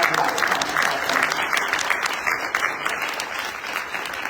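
Dense, continuous clapping fills a civic hall during the Decatur State of the City event, an audience applauding steadily and close throughout the short stretch.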